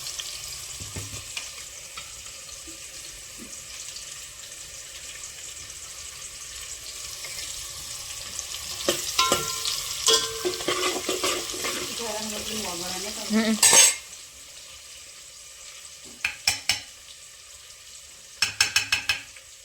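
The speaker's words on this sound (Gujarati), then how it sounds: "આ બાદ શાક વઘારવાનું ચાલુ" Chopped vegetables tempered and stir-fried in a pan, a steady close sizzle with clattering utensil knocks and scrapes, busier in the later half, with faint voices in the background.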